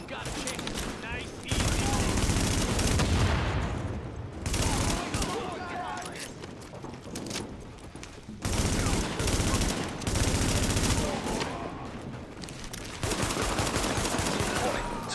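Heavy gunfire and bursts of automatic weapons fire in The Division video game, loud and sustained across the whole stretch with brief lulls, mixed with game voices and effects.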